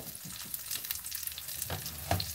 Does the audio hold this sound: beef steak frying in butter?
yes